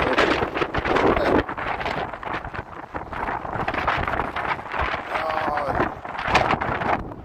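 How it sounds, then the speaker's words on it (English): Wind blows hard along the snowy Chicago lakefront during a January blizzard with drifting snow. It comes through as a constant, rough roar of gusts buffeting the microphone up close. "Yeah, the wind's blowing. So there's some drifting snow."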